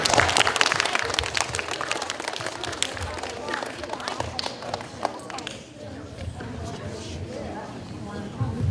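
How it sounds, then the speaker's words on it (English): Audience applause at a science museum presentation: a dense burst of clapping fills the room for several seconds, then thins and fades while people begin talking over it. "Let's give her a round of applause."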